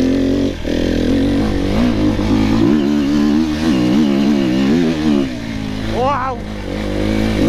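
A 500cc enduro dirt bike motorcycle engine runs steadily close by, its tone rising and falling as it revs, with a sharp rev climb near the end and a voice talking over it.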